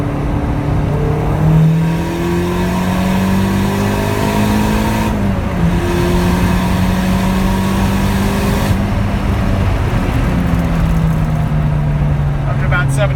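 Callaway Rabbit car held in third gear around 4,000 RPM on a highway, engine droning steadily with rising, shifting harmonics throughout, loud and close from inside the cabin.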